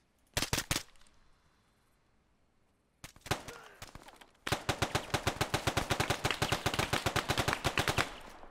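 Arma 3 military sim gunfire: a couple of sharp close shots at the start, a lone report after a pause, then a long rapid automatic burst of machine-gun fire, loud and dense with no talk over it.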